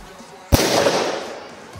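A PP1 firecracker goes off with one sharp, loud bang, followed by a crackling, hissing decay of about a second that fades out.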